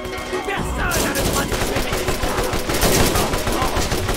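Turret gunfire in the video game Borderlands: a loud, dense stream of rapid automatic shots that runs without a break for the whole stretch.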